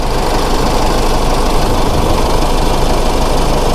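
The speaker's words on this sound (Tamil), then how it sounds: "ஸோ இதுதான் ஐடிலிங் சவுண்டு" Close, loud diesel engine of a Force Trax Cruiser idling with a rough, knocking rumble that holds steady throughout.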